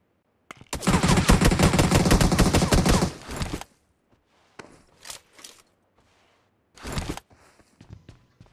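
Gunfire in BGMI, a mobile battle royale game: a loud sustained automatic burst lasting about three seconds, followed by quieter scattered short bursts and faint footstep-like shuffles.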